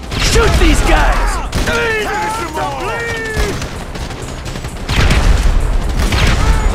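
Gunfire in a Grand Theft Auto 5 shootout with rogue agents on a walkway, loud and continuous, mixed with game sound effects and voices calling out over the shooting.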